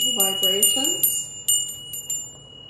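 A small bell is struck several times in a ritual setting, bright ringing tones with long shimmering decay, each strike overlapping the last, and a voice speaking briefly over the first rings.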